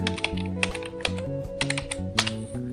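Keys clatter in quick, uneven bursts as someone types a captcha on a computer keyboard, close and clear over a steady low background hum, with no talking.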